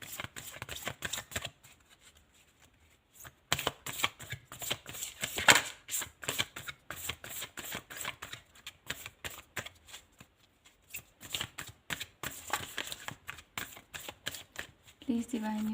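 Tarot cards shuffled in repeated bursts of crisp riffling and slapping, fairly close, with short pauses between rounds and a faint voice murmuring now and then.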